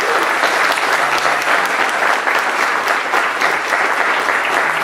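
An audience at a sales rally breaks into sustained, dense applause for a trainer, many hands clapping steadily and loudly with no pauses for the full stretch.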